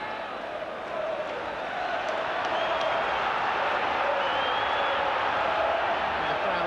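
A football crowd at a Sunderland v Liverpool FA Cup fourth-round match roars in a broad, sustained wash of cheering, swelling slightly and holding steady, distant under a commentator's voice.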